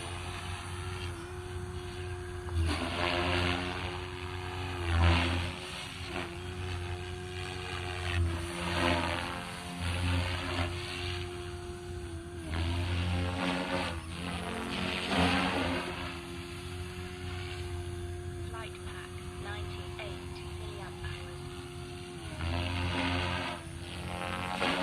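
RC helicopter on a SAB Raw 420 frame fitted with Rotortech Ultimate blades, head speed near 2700 RPM, whines steadily with a spinning rotor, pitch rising and falling in repeated surges as it maneuvers at a moderate distance.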